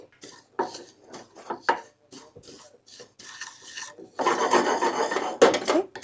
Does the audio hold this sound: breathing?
no